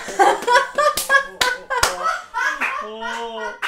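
A Sims character in a video game claps in quick, sharp bursts, mixed with childlike babbling voice sounds and a short sung tone at the end.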